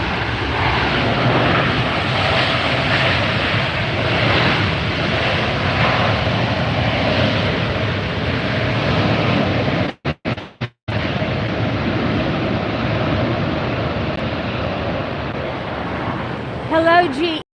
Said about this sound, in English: Here goes the Southwest departure.